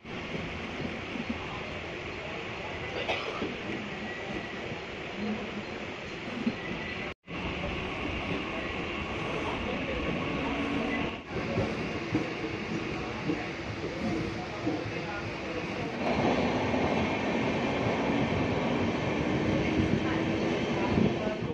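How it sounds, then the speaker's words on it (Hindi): Riding a Mumbai local train toward Kurla: a steady loud rumble of the carriage with rhythmic rattling, a brief dropout, then a rising whine as the train speeds up, with voices talking faintly under the noise. "ट्रेन मिल चुका है, कुछ 4-5 की है, तो चलते हैं फटाफट से कुर्ला के लिए।"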